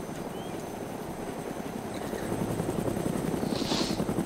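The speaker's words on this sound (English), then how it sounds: "We got a fucking helicopter." Helicopter rotors in the video game DayZ thump rapidly and steadily, growing louder partway through, with no voices.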